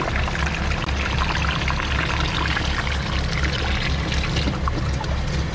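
Water poured from buckets through a funnel into a 3-inch hose on a line-pump job, a steady continuous splashing pour with a low rhythmic pulsing underneath, close and fairly loud throughout.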